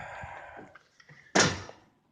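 An entrance door of a house swings open with a single sharp thunk and creak close by, following faint handling sounds, then fading out quietly.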